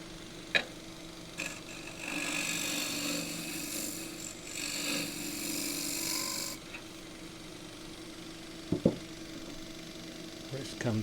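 A lathe tool shear-scraping a thin bowl of very green photinia wood, a continuous rasping hiss for several seconds between soft knocks, close and fairly loud, with no voices.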